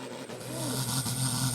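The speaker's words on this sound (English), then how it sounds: "Kevin and the Extreme Force tractor looking good here. Really making that sledge move." A pulling tractor, the Extreme Force machine, drags a weighted sledge down the track at a Eurocup tractor pulling final in Great Eccleston, its engine roaring in a steady, loud drone that swells and holds with rising pitch.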